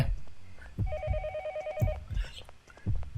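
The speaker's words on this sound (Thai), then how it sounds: "มันคือเสียงของไอตู้โทรศัพท์ไง" A phone booth telephone rings in the horror game Yomawari: Night Alone, one steady electronic trill lasting about a second, with footsteps and thumps around it and faint talk nearby.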